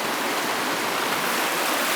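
A turbulent forest stream rushes steadily, a loud, unbroken broadband roar of churning water close by with no pauses.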